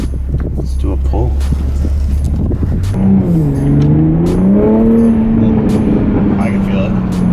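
A 2020 Toyota Supra engine revs hard on a dyno, starting at a low idle drone and climbing into a loud, sustained rising pull with wavering pitch.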